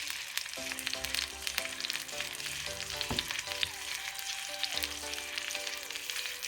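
Steady crackling sizzle of pork knuckle frying in hot oil, continuous and close, with a few soft clinks of utensils in the pan.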